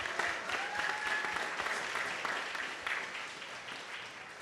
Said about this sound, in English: A round of applause for Amy and all that she does